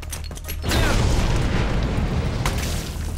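A grenade detonates in Dead Rising Deluxe Remaster, a sudden loud boom that swells into a sustained rumbling roar and slowly tails off.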